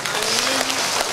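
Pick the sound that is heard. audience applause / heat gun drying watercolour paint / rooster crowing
audience applause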